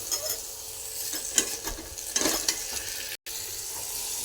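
A chili, garlic and cumin paste roasts with onions in a pan at low heat, giving a soft, steady sizzle with occasional scraping stirs and light utensil clinks, close by with no talking.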